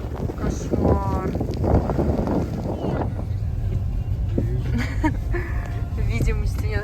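A strong blizzard wind roars and buffets the microphone steadily, with gusty swells and occasional rattles, while someone talks over it.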